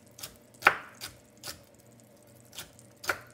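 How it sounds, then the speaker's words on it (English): A knife chops vegetables for a low-carb, gluten-free chicken pot pie, with six distinct hard taps on a cutting board at an uneven, unhurried pace, close and clear with no talking. "then I cut it in half, like that, and then I just take my knife, and I chop it up"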